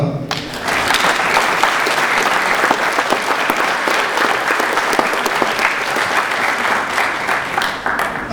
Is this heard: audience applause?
yes